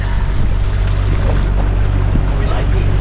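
A sailboat under sail on a USVI delivery passage gives a constant loud rush of wind and water against the hull, close and unbroken, with faint voices beneath.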